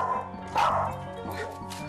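A small, highly sensitive pet dog barks and yips excitedly at a doorbell sound. Several sharp, close barks repeat in quick bursts across the moment, with faint background voices.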